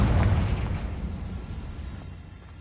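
A Confringo fire spell explodes in Hogwarts Legacy, a loud deep boom with a rumbling low-end tail that fades steadily over a couple of seconds, with no voices over it.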